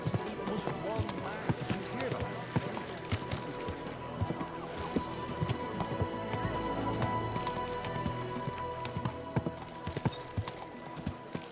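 Horse hooves clip-clop steadily through a medieval game world in Kingdom Come Deliverance 2, close and continuous, with an occasional whinny and a rider talking over the gallop.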